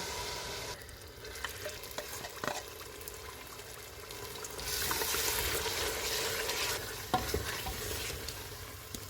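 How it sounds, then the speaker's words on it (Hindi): Ground masala frying in hot oil for a mutton gravy, with a steady sizzle under stirring scrapes that swells louder partway through. "ऑयल गर्म हो गया, इसमें ग्राइंड किया हुआ मसाला डालेंगे और इसको 2 से 3 मिनट तक भूनेंगे।"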